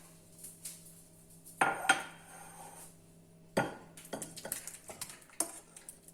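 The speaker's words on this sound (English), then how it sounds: "So I'm going to dish it out." A ladle scoops green tomato dal from a metal pot into a serving dish, making a few sharp metallic clanks and knocks with soft scraping between them, close by and without talk.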